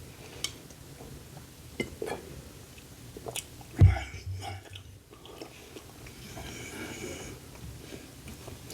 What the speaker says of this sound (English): You having a hard time chewing it?